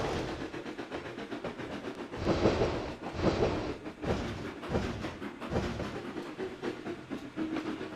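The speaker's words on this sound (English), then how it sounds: "Of course, that's a steam engine" A steam locomotive in the Trainz 2022 train simulator game chuffs along in a steady, rhythmic run of exhaust beats with hissing and rail noise, continuous and fairly loud, with no speech.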